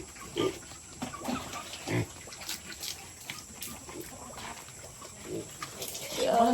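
Hungry pigs on a farm grunt in low, irregular snorts close by, with some splashing and faint background noise.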